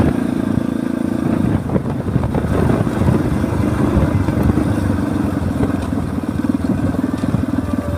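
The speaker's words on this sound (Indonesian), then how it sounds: "boncengan motor dari kebun ya teman-teman" A motorcycle carrying two riders runs along a rural road by a lake, its engine a loud close putter that rises and shifts over eight seconds, with rattling clatter and no speech.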